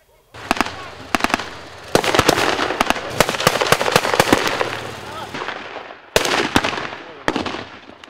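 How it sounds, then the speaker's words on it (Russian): Blank rounds and simulated shell bursts at a wartime battle reenactment staged as a memorial event, loud rapid volleys of sharp cracks and booms in bursts, with a brief pause before another salvo, no speech. "Запах пороха, звуки выстрелов и разрывы снарядов – будто ожившая картина из прошлого"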